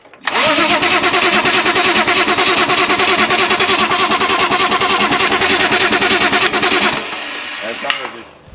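A diesel car engine, in a BMW E34, cranks and catches after sitting unused for a long time, then runs loud and rough with a steady clatter for several seconds before settling lower.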